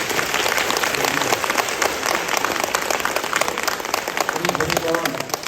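Audience applause for the head monk at a temple choir's 20th anniversary event, a dense steady patter of clapping filling the hall, steady and loud, with rain-like texture and no voices over it.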